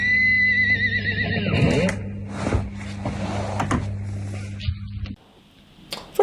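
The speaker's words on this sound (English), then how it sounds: "Making your guitar sound like a horse." An electric guitar's whammy bar bends notes into a horse-like whinny, sliding pitches wavering and falling, loud at first then fading out, with a sharp knock at the very end.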